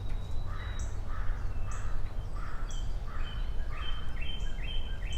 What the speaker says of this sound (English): Oh no, it's a crow. Neat. I always like crow sounds.